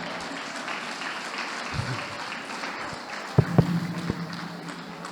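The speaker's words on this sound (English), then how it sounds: "Please clap for me." An audience at a lecture breaks into a soft, diffuse patter of applause that holds steady throughout, with a few sharper claps standing out near the end.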